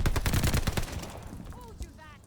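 An Owen Gun submachine gun fires in a video game as a rapid burst of close, loud shots that trails off into echoing quiet, with faint game sounds afterward.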